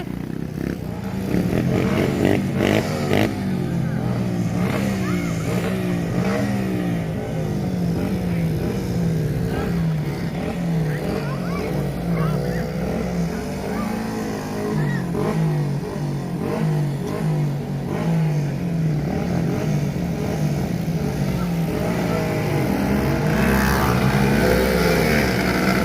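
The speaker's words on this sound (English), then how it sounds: "Put it in first gear, man." Dirt bikes racing in first gear, engines revving and whining steadily for the whole stretch, with gear-like pitch rises and falls and occasional voices over the motor noise.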